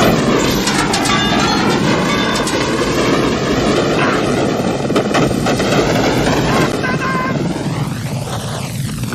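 Dense, continuous battle gunfire and explosions from a 1988 action film war scene, loud and sustained throughout with a rumbling low roar and no clear gaps.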